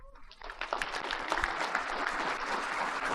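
Applause from a conference audience welcoming speaker David Rogers to the stage, a dense, steady clapping that swells quickly after a brief start and holds loud and even throughout.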